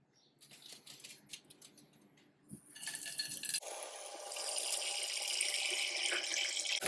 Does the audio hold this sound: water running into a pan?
yes